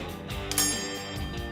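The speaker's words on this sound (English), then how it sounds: "Oh, it rings the bell." Bell on a coin-operated grip strength tester rings in a hotel setting, a brief bright ding over a sustained metallic ringing and mechanical rattle, close and fairly loud.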